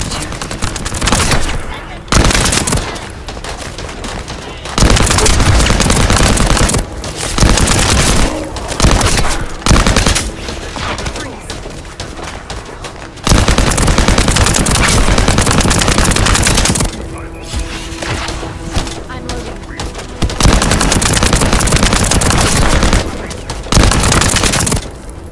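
Heavy automatic gunfire in the sci-fi shooter The First Descendant, loud sustained bursts broken by brief pauses, dense and close across the whole stretch, with occasional booms and some voices underneath.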